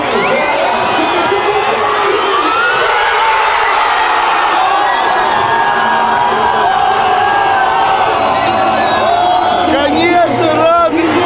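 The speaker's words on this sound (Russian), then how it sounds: "Болельщики ликуют" Football fans roar and cheer at a 2018 World Cup match after Russia's goal by Denis Cheryshev against Croatia, a loud sustained crowd with whoops and shouts throughout.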